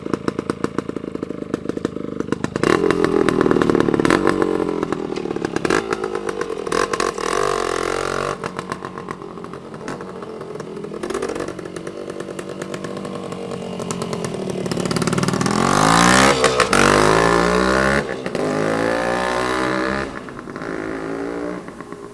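A 1973 Yamaha AT3 125 Enduro with an oil-injected two-stroke engine revs hard and close, a raspy buzzing note that rises and falls in repeated pulls with rapid crackling pops between throttle blips, no talking.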